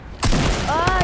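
A quick burst of gunfire rings out in Fortnite, loud and close, hitting sharply after a short quiet moment and then trailing into a brief rumble.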